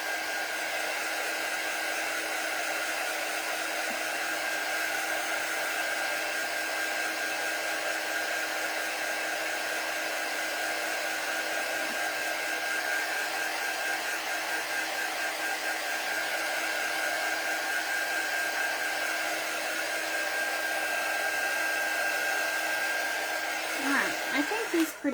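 A handheld hair dryer blows steadily on a rooster-design chicken wire tote bag, a loud continuous whooshing drone lasting throughout, ending with a brief rustle of handling.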